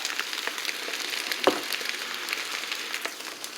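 Steak seasoned with a little salt cooks on a George Foreman grill sprayed with cooking spray, giving a steady, soft close-up sizzle and crackle with one brief sharper pop, and no voices.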